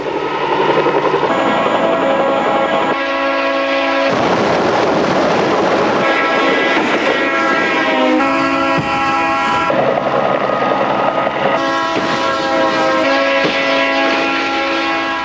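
A train approaches on the tracks, its rumbling growing loud while the horn blasts repeatedly in long sustained chords, close and dominant throughout with no speech.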